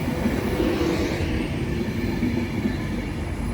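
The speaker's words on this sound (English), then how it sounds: "Soon to arriving now will be a terminating Avanti West Coast service from Manchester Piccadilly, which is 390-039." An Avanti West Coast Class 390 Pendolino, unit 390-039, arriving into London Euston on the West Coast Main Line with a steady, loud rumble of wheels and rail noise throughout.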